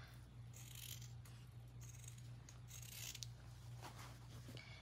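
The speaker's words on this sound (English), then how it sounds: "These scissors just are not cutting that fabric." Scissors snip repeatedly through blue denim jeans fabric while cutting out a chalk-drawn circle for a brooch, the blades struggling with the thick cloth in a series of close, soft crunching cuts over a steady low hum.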